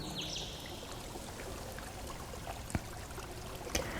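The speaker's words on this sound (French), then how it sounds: "attiré par le doux bruit de l'eau." Gentle stream water flowing through a garden among grasses, a soft continuous trickle and burble heard alone at low level, with a couple of brief louder drips or splashes.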